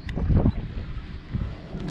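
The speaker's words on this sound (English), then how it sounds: "It's pretty windy today." Wind gusts roar across a riverside whitebait fishing spot as low, blustery rumbles buffet the microphone. The strongest gust comes at the start, then the wind eases and swells again.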